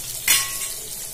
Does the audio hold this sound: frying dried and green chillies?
yes